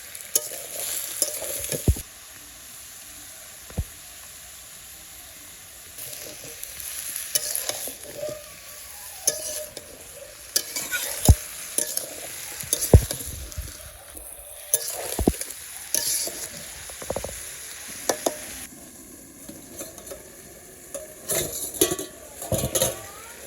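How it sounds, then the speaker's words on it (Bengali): Vegetables sauté in a pan in a village kitchen, with a continuous sizzle broken by repeated sharp scrapes and clinks of a spoon against the metal as they are stirred. "আমার সবজি কষানো হয়ে গেছে"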